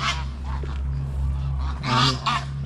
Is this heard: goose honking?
yes